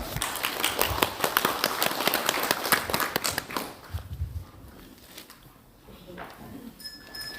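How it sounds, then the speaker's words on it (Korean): A congregation at a Korean missionary conference in Chiang Mai, Thailand applauds to welcome a pastor, dense clapping that tapers off into scattered claps and footsteps. "나오실 때 박수로 환영해 주시기 바랍니다"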